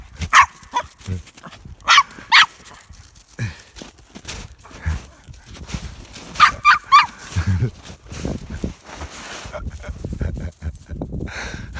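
Hunting dogs bark and yip in deep snow in short bursts, near and loud at moments, mixed with crunching and rustling movement and a voice.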